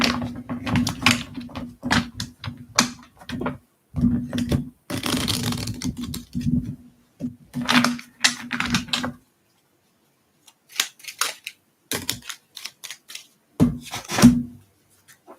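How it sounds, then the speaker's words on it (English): Tarot cards are shuffled and pulled, giving bursts of close, papery riffling and flicking with a steady low hum beneath, broken by short pauses and near silence in the middle. "But I'll pull the cards for you anyway."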